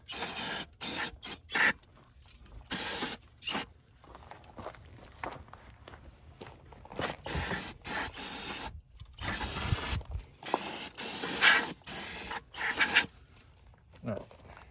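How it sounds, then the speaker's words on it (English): Brake cleaner hisses out of an aerosol can onto a 1983 Newell's brake hub in a series of short, loud bursts of varying length, separated by brief pauses and faint handling noises. "I'm gonna hit that with some brake cleaner,"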